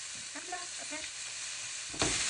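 Minced onion sizzles steadily in a hot pan with faint stirring scrapes, and a brief louder hiss flares near the end.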